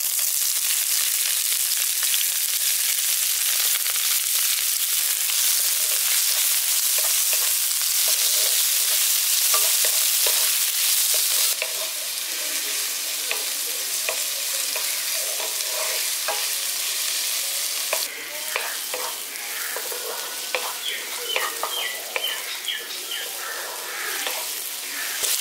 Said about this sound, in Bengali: এবার এর মধ্যে আমি দিয়ে দিচ্ছি 2টো পেঁয়াজ কুচিয়ে নিয়েছি